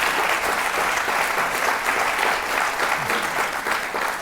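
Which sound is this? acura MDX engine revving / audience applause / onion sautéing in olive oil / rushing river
audience applause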